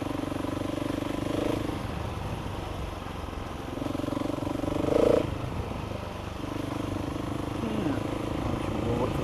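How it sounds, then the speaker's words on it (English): A Husqvarna 701e motorcycle ridden in third gear on an open road, its engine a steady drone with a slight lift in revs midway under continuous wind rush. "third gear tickling the throttle"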